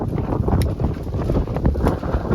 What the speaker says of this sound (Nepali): वेदर चाहिँ राम्रै भएको हावा मात्रै चल्यो कि